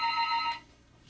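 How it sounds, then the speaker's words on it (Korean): A telephone bell rings indoors in a quiet home, a bright electronic trill repeating for about half a second and then stopping, leaving faint room tone. "전화벨 소리가 울린 건 그때였다"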